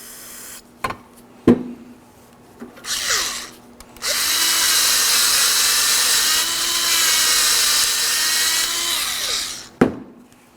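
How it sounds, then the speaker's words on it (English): A bore brush scrubbing the slider pin ports of a brake caliper bracket on a 2013–2019 Nissan Sentra, with parts cleaner sprayed over a collection receptacle. A few sharp knocks come first, then a loud, steady, close whirring scrub lasts several seconds. "I'm using parts cleaner over a collection receptacle and a bore brush."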